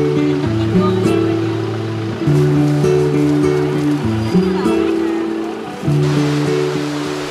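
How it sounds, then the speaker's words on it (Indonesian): Ocean waves wash onto Ulee Lheue beach in Banda Aceh in the evening, a steady broadband surf roar with swells rising and falling every few seconds, partly masked by background music. "riuhnya desiran ombak di sore hari"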